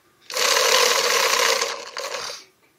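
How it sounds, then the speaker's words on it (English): A Virtue Spire bowling ball spinner whirs up and preloads a ball in one steady motorized spin of about two seconds, followed by a brief softer burst before it stops; close and fairly loud with no talking. "it will preload the balls for you. It just spins real quick and loads it up."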